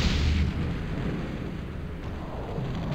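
A video game explosion in Battlezone 2 as a target is destroyed: a loud, low rumbling blast at the start that fades into a sustained, murky roar of engine and battle noise.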